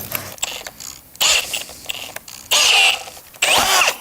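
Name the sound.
screws being driven into bi-folding door track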